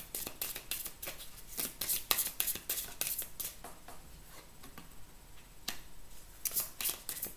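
Oracle cards are shuffled and handled close by, a quiet run of crisp riffling flicks and papery snaps in uneven bursts, with brief pauses between them.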